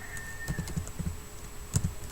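Keys clatter on a computer keyboard while coding a calculator in Scratch, with short bursts of close taps separated by brief pauses over a faint steady hum.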